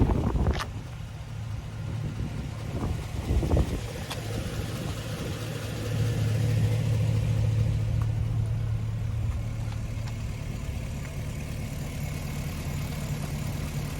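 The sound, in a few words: Hummer H3T truck engine running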